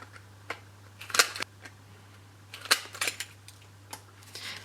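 A corner cutter punches rounded corners into printed white card, giving a few sharp snipping clicks in quick pairs, spaced out over a quiet background hum, close and fairly faint.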